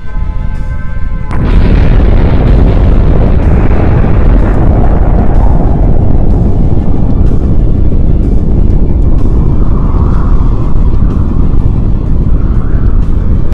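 A nuclear bomb test explosion erupts after a brief quiet moment into a massive, sustained roar that stays loud and dense without letup, a deep rumbling blast with no voices.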